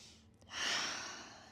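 A single slow, breathy inhale then exhale in a quiet room during a yoga child's pose, soft and close with no voice.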